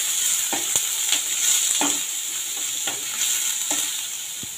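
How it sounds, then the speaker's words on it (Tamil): Small onions fry in a pan for a tamarind curry, a soft, steady sizzle under regular light scrapes and taps as they are stirred. The sound is fairly quiet and close, with no talking. "மிக்சியில் இருந்த சின்ன வெங்காயத்தெல்லாம் அதையும் போட்டு வெங்காயத்தை கொஞ்சம் மணக்கிக்கலாம்."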